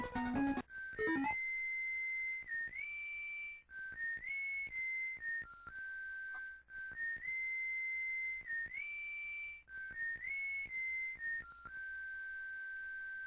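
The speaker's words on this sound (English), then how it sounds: "that is Proto Man's full whistle" Proto Man's whistle tune from the video game Mega Man 3, a bright electronic melody of sustained tones in repeating phrases with brief gaps, playing steadily and clearly with no voices.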